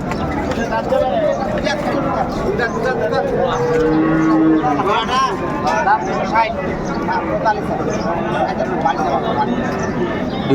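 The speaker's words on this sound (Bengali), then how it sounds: "নয় মন সুঠাম দেহের গরু ভাই" A Sahiwal bull at a cattle market in Ambari, Dinajpur moos loudly several times, its drawn-out calls rising over a dense, constant background of crowd chatter.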